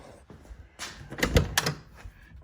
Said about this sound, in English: And if you open your door,